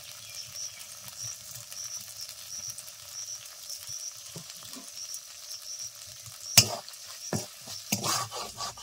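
Spice masala with a pinch of salt and sugar is stir-fried in a pan for a Bengali doi potol curry. A soft, steady sizzle runs throughout, and near the end sharp spatula scrapes and clinks against the pan grow louder. No one speaks.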